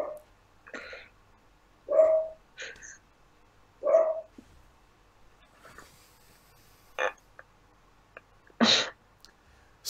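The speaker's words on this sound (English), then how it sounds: "And there is a dog!" A dog barks inside a house: a handful of sharp, separate barks come at irregular intervals over a quiet room, fairly close and moderately loud.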